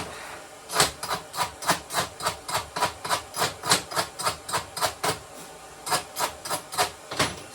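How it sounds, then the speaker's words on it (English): A hammer chips slag off a fresh flux core weld made with a hand held gun, steady sharp metallic knocks about twice per second, close and loud, with no talking. "I'm going to knock the slag off there in a minute"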